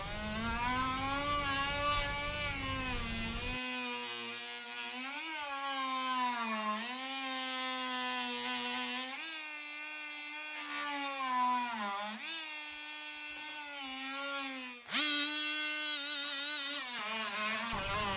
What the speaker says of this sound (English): I think the multi-tool actually helped with this part of it